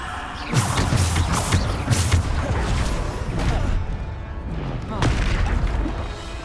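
Spell blasts in the wizarding action game Hogwarts Legacy hit during a fight against trolls, a run of heavy booming impacts and crackling bursts fired in quick succession, loud and close, mixed with game effects.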